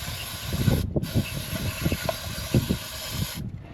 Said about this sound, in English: Spray some down this massive 750 double pumper.